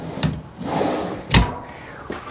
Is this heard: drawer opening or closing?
yes